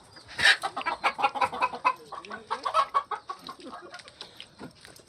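Chickens cluck and chatter close by on a date farm in a busy, overlapping series of short calls, with no one speaking.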